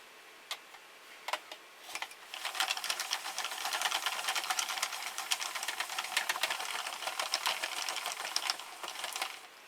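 A Sentro knitting machine cranked by hand gives off a rapid, steady plastic clicking and ticking that builds after a few isolated clicks and carries on evenly at close range.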